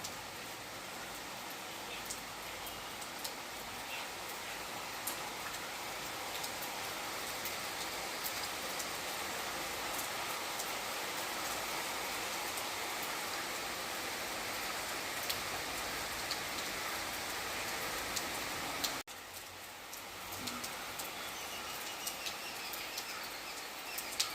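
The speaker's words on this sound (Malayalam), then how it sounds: "നല്ല മഴയുണ്ട് കേട്ടോ." Steady, dense rain hammering down continuously, a broad hiss of drops on surfaces with a brief dip near the end; no voices.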